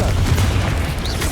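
A Confringo fire spell detonates in Hogwarts Legacy with a dense, continuous low booming roar, loud and close, carrying through the whole moment without pause.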